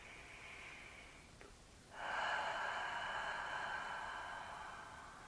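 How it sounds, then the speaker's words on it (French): Slow, deep breathing during a guided meditation: a soft breath, a brief pause, then a longer airy exhale or inhale that fades gradually, heard close and alone over a faint background hiss. "prendre quelques profondes respirations"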